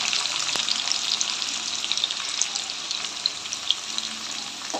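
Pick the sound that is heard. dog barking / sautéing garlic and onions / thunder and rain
sautéing garlic and onions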